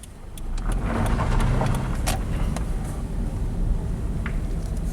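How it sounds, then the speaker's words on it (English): A Scion FR-S / Subaru BRZ with low power and a stumble fault pulls away hard from a stop, a steady mid-pitched engine roar with road noise and a few faint clicks, heard close from inside the car. "Let's do a 0 to 60 in this little go-kart."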